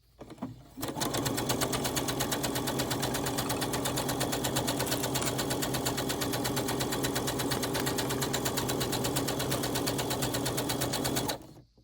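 Sewing machine stitching a fabric Christmas ornament, one steady close-up run of rapid mechanical stitching that lasts about ten seconds, starting and stopping abruptly, alone with no voices.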